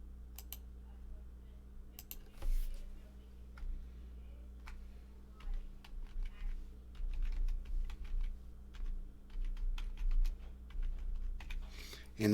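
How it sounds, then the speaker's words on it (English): Computer keyboard typing during a home livestream call, a run of quick clicky keystrokes in irregular bursts, close and fairly quiet over a low steady hum, with a brief louder knock near the start. "Type it up"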